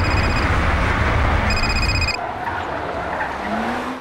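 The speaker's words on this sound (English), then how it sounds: "a car chase ensued" A car skids with squealing tyres during a chase scene in the soap EastEnders, a loud rough roar that cuts off abruptly, with a ringing phone tone over it and a quieter passage after.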